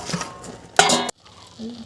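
Metal utensil scraping and clattering in a wok as jute leaves are stirred, in two short bursts, with a soft voice murmuring at the start and again near the end.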